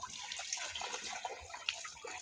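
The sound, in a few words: water being poured on a cow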